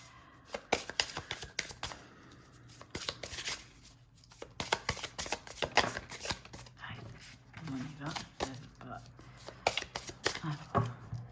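Tarot cards are shuffled by hand in a rapid series of crisp, close riffling flicks and slaps, bursts of shuffling repeated throughout alongside a woman's speech.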